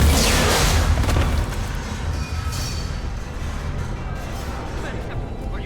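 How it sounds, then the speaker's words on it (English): A bomb blast in the sci-fi video game Mass Effect 3, a loud booming explosion up front that decays into a long rumbling roar, with game voices around it. "That's a bomb."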